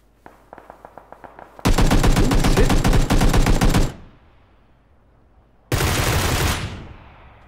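Gunfire in PUBG: a quick run of single shots, then a long, loud automatic burst that stops abruptly. After a short lull, a second heavy burst follows and fades away.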